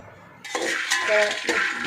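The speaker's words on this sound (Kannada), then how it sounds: "ನಾನು ಶೇಂಗಾ ಹುರಿತಾ ಇದ್ದೇನೆ" Peanuts roasting in a dry pan, stirred with clinking, scraping strokes of a utensil against the metal over a couple of seconds.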